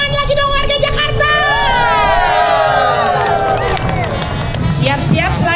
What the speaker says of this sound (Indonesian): Tepuk tangan lagi dong warga Jakarta.